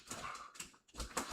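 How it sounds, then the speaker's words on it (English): A dog whimpers and yips in short bursts while playing with a cat indoors, brief and fairly close. "this cat is attacking the dog."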